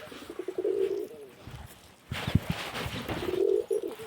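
Domestic pigeons in a home loft give low, throaty coos in two bursts, with a noisy shuffling stretch between them; the cooing is close and moderately loud.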